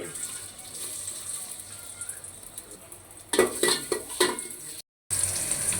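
Chopped onions dropped into hot oil for pulao give a soft, steady sizzle that builds, followed by a burst of sharp clattering from a utensil against the pot.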